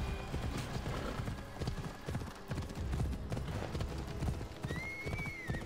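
Horse hooves gallop at speed in Assassin's Creed Odyssey, a steady loud clip-clop rhythm throughout with a brief whinny near the end, set against rolling game ambience.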